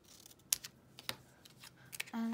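Scissors snip through paper for a gift card holder, sounding as a few close, crisp cuts and clicks spread unevenly over a couple of seconds, followed by a short low hum at the end.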